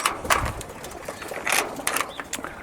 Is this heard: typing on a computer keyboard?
no